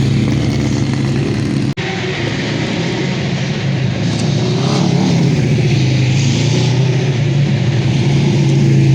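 Single-seater race cars built on Formula 1 chassis run at the Le Mans circuit during a French FFSA circuit cup meeting, their engines a loud, steady roar that holds through the whole stretch, with one sharp break partway in.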